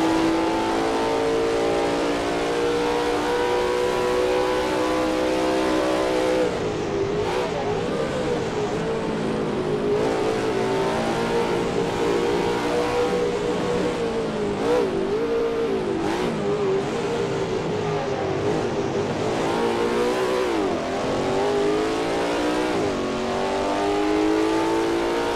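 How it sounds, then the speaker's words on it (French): An ATCC Group C race car engine in Assetto Corsa roars continuously at high revs, its pitch climbing and dipping through gear changes, loud and close throughout. "le son vrombissant de cette voiture exceptionnelle"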